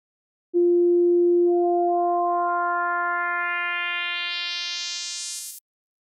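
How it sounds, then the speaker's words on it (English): A Nave synthesizer sine wave holds one steady, loud tone while extra harmonics are gradually added, so the pure note grows brighter and buzzier over about five seconds before it cuts off. "When using a sine wave which only contains the fundamental harmonic, you can apply extra harmonics by moving the control positively"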